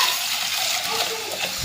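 Water pours from a tap into a pot holding a quarter kilo of black-eyed peas, a steady bright splashing gush that runs without pause and sounds close and fairly loud.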